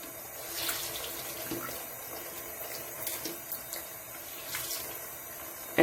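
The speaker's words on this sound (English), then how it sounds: "I soak it all the way up with water and squeeze out all the shampoo out of it" A tap runs steadily into a sink while a makeup brush and sponge are rinsed of shampoo, with soft squelching and splashes over the constant faint water flow and no talk.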